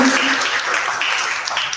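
A church congregation at an evening worship service bursts into brief, dense clapping in praise, a loud close patter of many hands with a voice faintly over the start.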